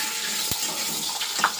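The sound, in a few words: frying paneer with turmeric and salt in a kadai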